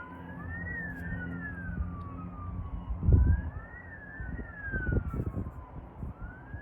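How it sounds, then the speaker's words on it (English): Wailing ambulance or fire truck siren heard at a distance, sweeping up and down steadily across the whole stretch, with rumbling traffic or wind noise below. "God be with whoever the ambulance or fire truck is going to."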